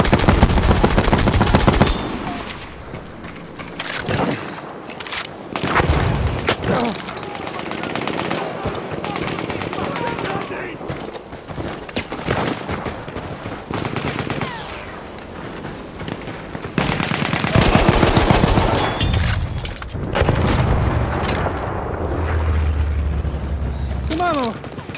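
Support-class machine guns fire in Battlefield 1 multiplayer, with long, loud bursts of automatic fire mixed with booms and explosions throughout. Voices shout between the volleys.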